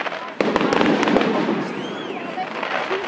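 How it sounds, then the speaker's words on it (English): Canada Day fireworks crackle and pop in quick bursts, followed by a whistling rocket trail and a steady roar of distant explosions. "That's pretty good fireworks."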